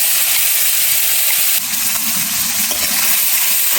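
Spice paste with asafoetida hitting hot oil gives a loud, steady rushing sizzle and hiss that fills the whole stretch, with a slight surge partway through.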